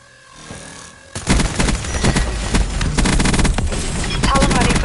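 Video game gunfire from units under attack, sudden loud bursts of rapid automatic shots with scattered impacts, continuing densely for several seconds after a quieter opening.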